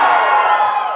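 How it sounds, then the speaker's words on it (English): A comedy-show audience roars with cheers and whoops, one loud sustained crowd burst that fades slightly at the end. "Give us a cheer if you drive manual"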